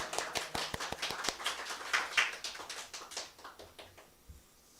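Congregation applauding during a Korean church worship service, welcoming visiting guests; a moderate run of many hand claps, dense at first and tapering off over several seconds with no talk.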